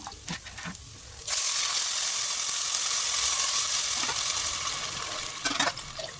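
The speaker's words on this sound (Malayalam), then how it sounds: "ഒരു ഗ്ലാസ്സിന് രണ്ട് ഗ്ലാസ് വെള്ളം നല്ല കണക്കിൽ തിളച്ച വെള്ളം തന്നെ ഒഴിച്ചു കൊടുക്കണം" A steady, loud hiss of boiling water pouring onto rice for biryani sets in after a second and continues for several seconds, near and without voices.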